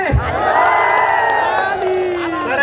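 Audience at a live comedy show in Surkhet, Nepal, featuring comedian Raja Rajendra Pokhrel, breaks into loud, sustained cheering and whooping, with excited voices carrying on for several seconds.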